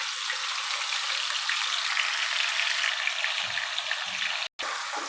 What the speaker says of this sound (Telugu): మిక్సీ పెట్టుకుని ఆ పేస్ట్ని ఆయిల్లో వేసుకోవాలి.